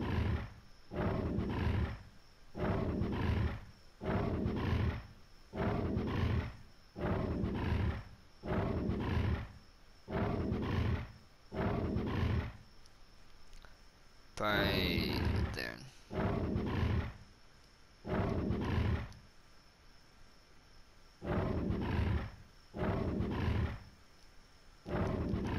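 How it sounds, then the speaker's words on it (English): Shark creature in the ARK survival game gives repeated rhythmic roaring grunts, about a dozen regular bursts close up, broken once by a brief sharp high screech midway. "I'm not even sure what a shark even sounds like."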